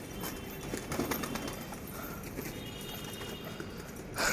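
Paired pigeons fluttering and shuffling close by, with soft rapid wing flaps and faint bird sounds, ending in a louder burst of flapping.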